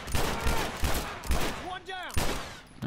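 Rapid gunfire from a shooter video game comes in loud, repeated bursts about every half second. Brief whooshing, sweeping game effects sound between the shots.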